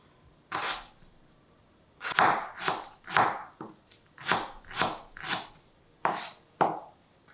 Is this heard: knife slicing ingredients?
yes